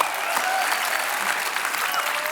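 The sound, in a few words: applause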